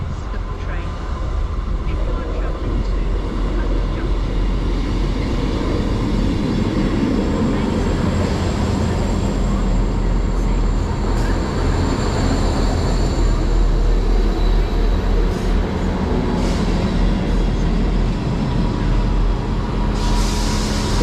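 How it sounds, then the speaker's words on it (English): A South Western Railway Class 159 passenger train rumbles loudly and steadily into Crewkerne station, a low continuous roar filling the whole stretch with faint higher tones above it. "arriving in now is the 1343 South Western Railway service to London Waterloo from Exeter St David's."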